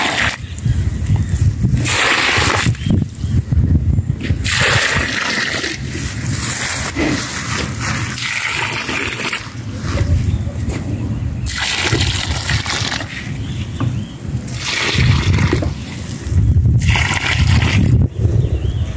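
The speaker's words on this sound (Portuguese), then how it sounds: "A gente tá colocando um pouco de água." Water from a tanker truck gushes onto garden soil being prepared for a hedge, a loud, close splashing flow that surges and eases in repeated waves, with no talk.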